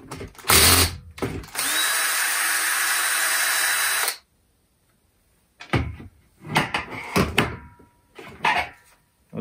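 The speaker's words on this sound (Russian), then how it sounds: "И открутим еще вот этот винт," A power driver whirs in one brief burst and then a steady run of about two and a half seconds, undoing the screw that holds the gearbox to the shaft tube of a Makita cordless trimmer, followed by scattered clicks and handling knocks.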